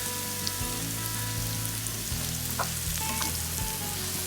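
Beef liver pepper fry sizzles steadily in hot oil with curry leaves in a Kerala kitchen, a loud, even frying hiss with faint stirring, no voices.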